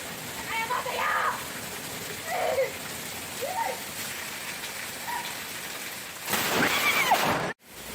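Steady rain falling outside in a yard, a continuous hiss throughout, with a brief louder burst near the end before a sudden cut.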